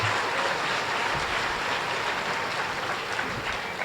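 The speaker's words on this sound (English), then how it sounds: "round of applause for that" An audience at an elementary school Christmas concert breaks into sustained applause. The dense, even clapping fills the hall for several seconds without a pause.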